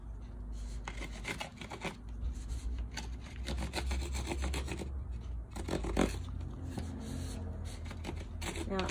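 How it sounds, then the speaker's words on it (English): Bamboo tube end being filed down by hand for a bee hotel, a steady run of dry rasping wooden strokes, close and fairly quiet, with no talking. "filing it down a little bit."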